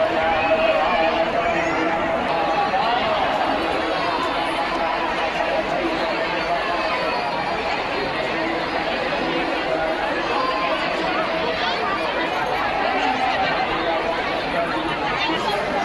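A huge crowd gathered outdoors for a religious discourse makes a dense, constant roar of overlapping voices, loud and unbroken, with no single speaker standing out.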